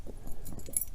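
Keys jingle on the ring of a Master Lock Pro Series 7050 padlock, a soft, close metallic rattle over about a second at low level.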